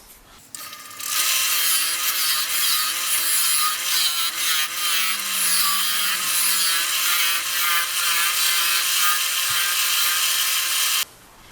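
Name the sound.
wood turning on a lathe, shaping a tenon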